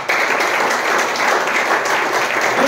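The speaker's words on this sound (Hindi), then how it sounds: "ताली बजा के परमेश्वर" A church congregation claps together during a Hindi sermon, a thick continuous wash of applause with no pauses and no talk over it.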